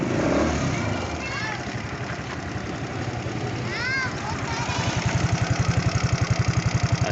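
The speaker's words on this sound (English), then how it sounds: "I hope you guys can hear the sound of the engine. It's very smooth." A 125 cc Aprilia SR125 scooter engine idles steadily, close by, its putter growing into a clear regular pulse toward the end, with a voice briefly heard over it.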